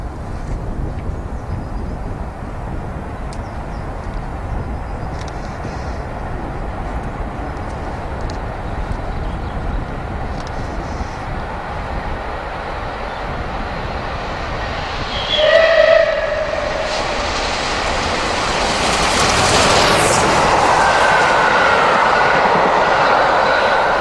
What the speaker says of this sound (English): This is Deep Cuts and the Waterloo-bound South Western Express from February